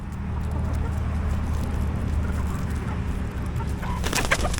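Thirteen-week-old chickens cluck and coo softly and steadily while pecking food off the ground, a close, continuous flock murmur.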